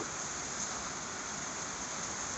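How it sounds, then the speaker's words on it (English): Steady, even rain falls outdoors on a farm, a dense continuous hiss without pauses or other sounds. "it's still raining."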